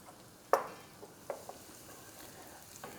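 Shallots and onions sauté in oil in a pan for a tuna pasta bake, giving a quiet sizzle broken by a few clear clinks and scrapes of a utensil stirring, with no voices.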